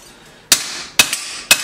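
Three sharp, bright clangs of a 2-pound Harbor Freight hammer striking metal while forging a blade, evenly spaced about half a second apart, close and loud with a quick ringing decay and a faint extra tap between.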